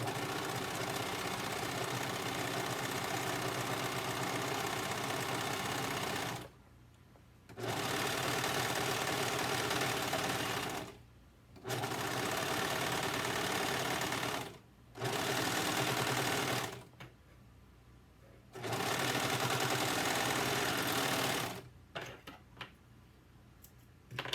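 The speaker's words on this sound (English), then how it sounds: "this is the serger machine I was telling you about, and I'm just going to finish the bottom of this cap" A serger machine finishes the bottom edge of a fleece cap in loud, close bursts of fast, whirring stitching, running in several long runs separated by brief pauses.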